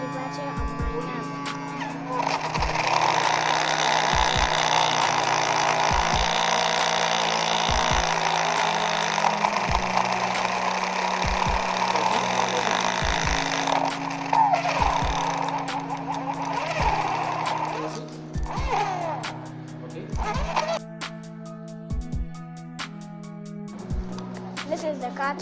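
Homemade blender driven by a small battery-powered motor, a steady whining hum that runs for most of the stretch, with repeated clicks and a voice speaking over it.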